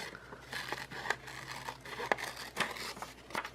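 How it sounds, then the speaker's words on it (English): Scissors cutting down a puzzle for a collage planner: soft, close snips and paper crinkles recurring at irregular intervals over a faint background hiss, quiet throughout. "I'm just going to cut down this puzzle"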